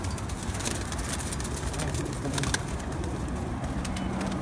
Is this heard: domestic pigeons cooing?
yes